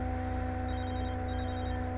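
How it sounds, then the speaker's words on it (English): Telephone in The Sims 3 video game rings in two bursts of electronic trills separated by a short pause, steady and clear over a constant background hum. "Answer the phone, Evan."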